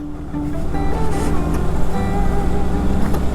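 A motorbike in a low gear climbing a hill road in Khagrachhari, its engine a loud steady drone with wind rush and faint voices in the background.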